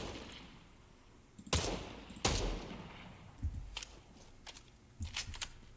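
Heavy assault rifle fire in Fortnite: several loud, cracking shots spaced irregularly over the few seconds, some close together in short bursts, with a faint echoing tail after each.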